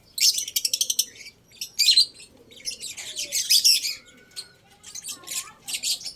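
Birds chirp and tweet in rapid bursts, several calls overlapping with short pauses between, fairly close with a quiet background.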